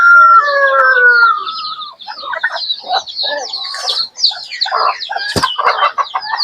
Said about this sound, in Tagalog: check lang muna tayo ng ating mga alagang manok